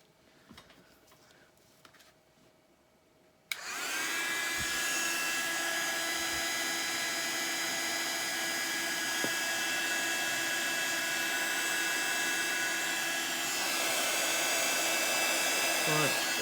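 Heat tool blowing hot air to dry heat embossing powder, switching on abruptly and then holding a loud, steady, close whirring roar, with a few soft handling sounds beforehand.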